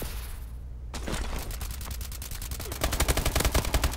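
Gunfire in Call of Duty: Advanced Warfare on the Horizon map: a few scattered shots, then a rapid rhythmic automatic burst near the end, loud and close.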